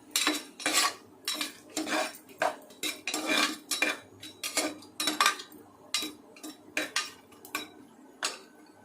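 Whole cumin, cinnamon, cloves and cardamom go into a cooking pot for chicken biryani, with a string of sharp metallic clinks and scrapes from a spoon against the pot in an irregular rhythm, close and clear.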